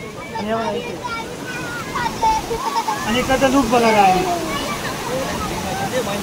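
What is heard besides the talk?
water flowing over dam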